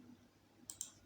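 Two quick, faint computer mouse clicks close together near the end, made while drawing walls in Revit, alone over a quiet background.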